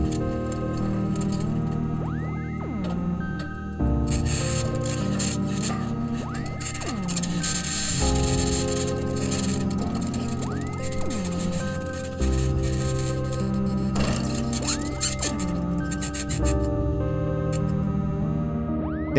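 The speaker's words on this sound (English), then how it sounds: "we can hear the bangs, pings, and rattles from metal wheels rolling over the rocks" Metal wheels of the Mars Perseverance rover roll over rocks, giving a continuous scraping rumble with bangs, pings and rattles, plus a recurring high-pitched scratching whine in a slow repeating cycle.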